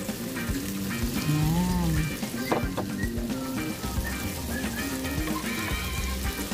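Shrimp added to a pan of softening squash for ginataang kalabasa sizzles and fries steadily at close range, with a brief word spoken over it.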